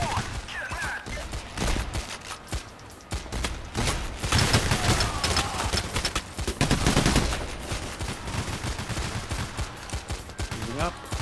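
Rapid bursts of gunfire ring out in the video game Payday: The Heist, with dense, repeated shots that come and go in waves across the whole stretch.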